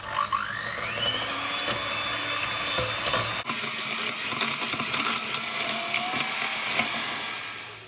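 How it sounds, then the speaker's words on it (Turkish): An electric mixer whisks eggs and sugar for an orange cake batter, a steady high whine with a faint rattle against the bowl. It runs close and unbroken, with the pitch climbing slightly as the beaters speed up. "Şimdi şekerle yumurtaları ben çırpacağım."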